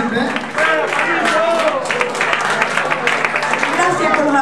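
An audience applauding at an outdoor music event, a dense steady clatter of many hands clapping throughout.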